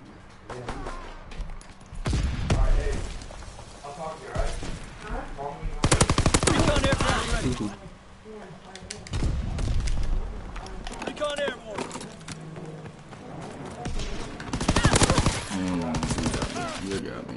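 Bursts of automatic gunfire in a winter siege video game, coming in loud clustered volleys with gaps between them, while a voice talks over the fighting.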